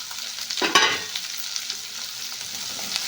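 Onion, green chilli and curry leaves frying together in a pan, a steady close sizzle with a few stirring scrapes near the start, no talk.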